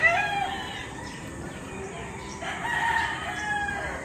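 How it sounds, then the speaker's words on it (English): Roosters crowing in drawn-out calls, one near the start and another later, over a steady outdoor background hum; no talking. "from my dad's roosters."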